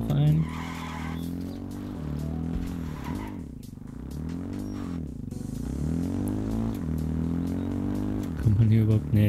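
A vehicle drives through the H1Z1: King of the Kill video game, its engine droning steadily with shifting pitch and tire skids throughout, loud and continuous with no pauses.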